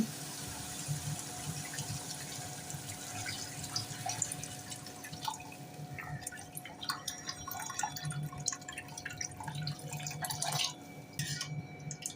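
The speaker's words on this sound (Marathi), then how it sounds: "आता याच्यामध्ये घालूया पाणी" Water poured into a pan of sautéed vegetables with soy and red chili sauce for veg manchow soup, a quiet trickling and splashing pour that grows busier toward the end.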